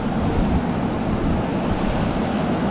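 Strong wind rising outdoors during a gold prospecting outing, a loud steady roar with microphone buffeting that holds constant throughout, no talking.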